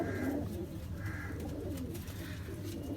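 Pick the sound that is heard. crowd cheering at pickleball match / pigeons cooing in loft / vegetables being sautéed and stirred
pigeons cooing in loft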